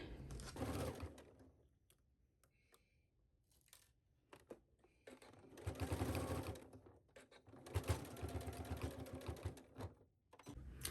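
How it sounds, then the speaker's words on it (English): A sewing machine runs in several bursts of rapid mechanical stitching down a wrap skirt piece, separated by short pauses with light handling clicks. "you are going to stitch this down at your sewing machine"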